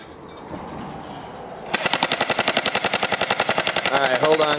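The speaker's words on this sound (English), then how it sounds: "give me a burst of fire and show me some" Jing Gong G36C airsoft gun firing a long rapid burst outdoors, a fast, even stream of sharp cracks that starts abruptly after a quieter stretch and continues to the end.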